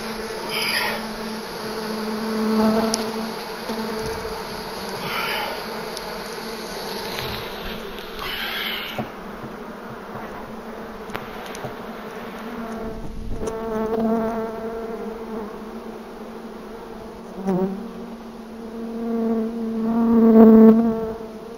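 Bees buzz steadily and close around a beekeeper during honey extraction, a loud droning hum that swells and fades as insects pass near, with occasional handling knocks and no talk.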